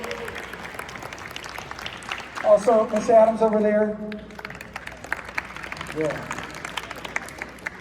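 Applause from an audience at a school financial literacy concert, moderate clapping running steadily under a man's speech, swelling briefly as he talks.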